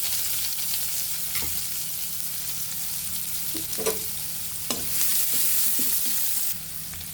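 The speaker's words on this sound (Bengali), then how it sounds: "জিরেগুলো ভাজা হয়ে গিয়েছে, এখন আমরা পেঁয়াজ কুচি দিয়ে দেবো।" Chopped onions fry in oil with cumin seeds in a wok, giving a steady close sizzle with scattered scraping taps of stirring, which swells louder near the end before easing off.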